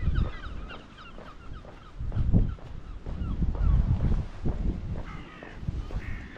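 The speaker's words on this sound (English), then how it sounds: "It is very windy." Strong wind buffets the microphone on an open coastal walk near Padstow, Cornwall, a loud rumbling roar that swells and eases in gusts, with some faint bird calls in the background.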